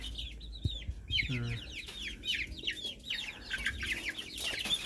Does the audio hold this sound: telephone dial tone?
no